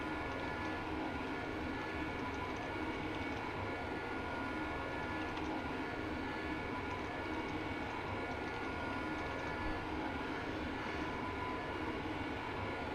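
An aircraft on the runway in a formation flight, its engine a steady, dense broadband roar that holds level throughout, close and continuous, with no voices.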